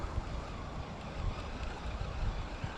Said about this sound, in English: Sorry if the wind noise is bad too.